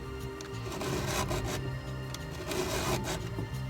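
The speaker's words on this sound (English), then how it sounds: "you want to take your file over the saw so you can look straight down at it, and you just follow that angle" Hand file sharpening a saw, with rough rasping strokes repeating in a steady back-and-forth rhythm at close range, fairly loud and continuous.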